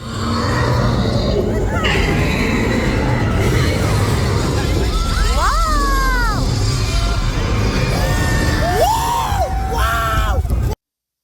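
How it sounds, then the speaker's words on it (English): A rider screams through the steep, fast drop of a ride at Universal Studios Hollywood, loud wailing cries over constant roaring ride noise and crowd din, with several rising-and-falling yells near the end. "Yes, that's me screaming, as embarrassing as that is."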